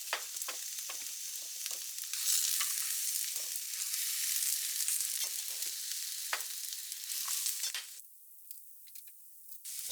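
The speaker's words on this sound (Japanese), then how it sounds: "火が通るまで焼きます。" Bell pepper and zucchini sizzle steadily in rice oil in a pan, a continuous bright crackle with occasional stirring scrapes, fading quieter near the end.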